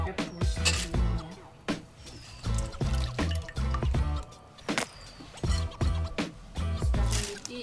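Water splashes and trickles in irregular bursts as noodles are rinsed clean, close and fairly loud with intermittent pouring and dripping sounds.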